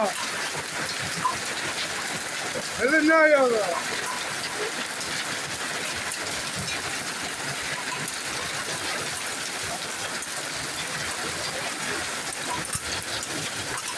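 Hail falls over Byuravan, pattering in a dense, steady outdoor wash that lasts the whole stretch; a voice briefly cuts in near the start, and a short chirping sound rises above the patter.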